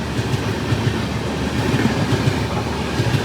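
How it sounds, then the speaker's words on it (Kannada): A superfast express train from Varanasi rushes past a crossing at high speed without stopping at Amrutapura station. It makes a loud, continuous roar with a steady clickety-clack of wheels over rail joints throughout. "ಏನು ಹೆವಿ ಸ್ಪೀಡಲ್ಲಿ ಅಮೃತಪುರನ ಸ್ಕಿಪ್ ಮಾಡ್ಕೊಂಡು ಹೋಗ್ತಾ ಇದ್ದಾನೆ ವಾರಣಾಸಿ ಟ್ರೈನ್"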